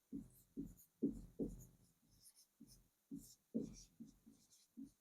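Handwritten notes on paper, close scratchy pen strokes in short bursts with brief pauses between them, and no speech over the writing.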